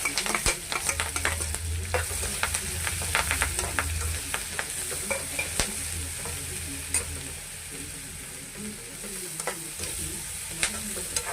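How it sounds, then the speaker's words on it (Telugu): Green chillies, curry leaves and onion frying in a pan, with a continuous sizzle and frequent sharp stirring clicks and scrapes of a utensil against the pan, close and steady. "ఇప్పుడు ఇందులోనే కరివేపాకు ఆనియన్ వేసేస్తున్నామండి"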